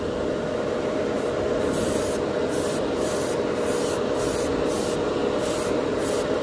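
A can of Tamiya clear color spray paint releases a loud, continuous hiss at close range. The spray holds steady throughout, with a faint pulsing flutter in its airy top edge.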